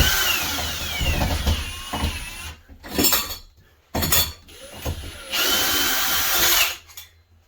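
A power drill backs screws out of bathroom shower trim in several short bursts separated by pauses, with whirring and clattering metallic handling noises between runs, fairly close and loud.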